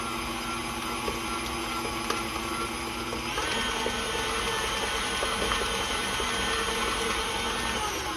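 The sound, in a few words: electric mixer creaming lemonade pie filling with evaporated milk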